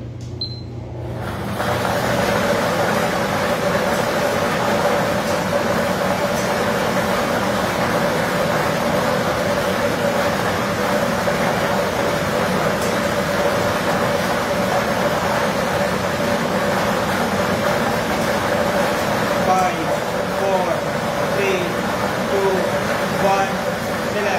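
A lottery draw ball blower machine runs at the STL Nueva Ecija draw, a loud, constant roar of rushing air with faint clattering of tumbling balls, steady for the whole stretch after a brief quiet start.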